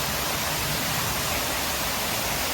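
Indoor waterfall inside the Mai-Kai restaurant, a steady broadband rush of falling water that holds even and constant throughout, with no voices over it.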